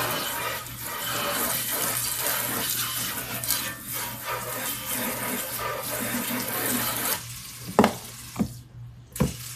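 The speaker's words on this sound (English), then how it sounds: "Start running your cold water, okay?" Steady rushing cold water pours continuously from a tap, with a few sharp clanks and knocks near the end as the flow cuts off.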